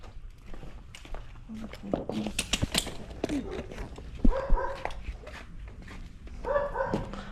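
A dog barks a few times amid background chatter and footsteps, the barks short and moderately loud, with a couple of yips near the end.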